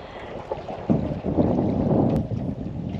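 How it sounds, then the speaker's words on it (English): Gusty wind buffeting the microphone outdoors on a boat at the Montebello Islands, a low rushing roar that swells and holds steady. "Look at that wind, Ricky."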